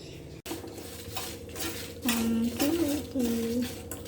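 Coriander, cumin and fenugreek seeds are stirred and roasted in a kadai, with metal spoon scrapes and clinks against the pan and a soft sizzle, while someone speaks over the cooking.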